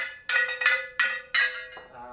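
Several metallic cowbell strikes on a wall-mounted outdoor music wall, in an uneven rhythm, bright and close, each ringing briefly before the next hit.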